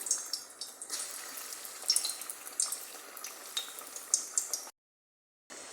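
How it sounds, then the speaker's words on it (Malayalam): Green chili vadas, fritters of batter-coated green chilies, sizzle and crackle in hot oil as they go in one by one, a steady close frying hiss with small pops and spatters, ending in a brief silence. "എണ്ണ നല്ല ചൂടാകുമ്പോൾ ഓരോന്നായി ഇതിലോട്ട്"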